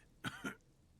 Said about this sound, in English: He coughs, then continues.